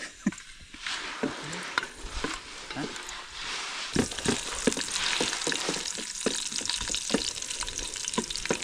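Whole spices frying in hot oil in an outdoor hillside cooking pot for masala rice, a steady close sizzle with occasional stirring scrapes and pops, no talk.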